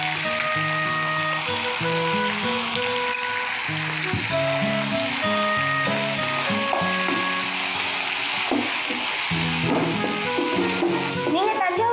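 Tomatoes with a pinch of salt sauté in a pan in a studio kitchen, giving a steady sizzle and stirring throughout, with people talking and background music over it.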